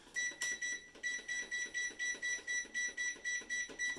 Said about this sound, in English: We're going to set this timer for 15 minutes.